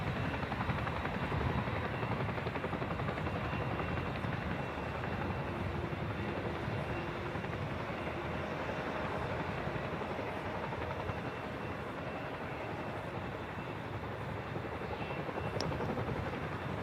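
A tandem-rotor Chinook helicopter gives off a steady, loud, broadband roar and rotor thrum for the whole stretch, with no voices.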